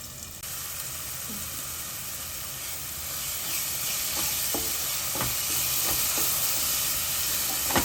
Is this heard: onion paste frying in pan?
yes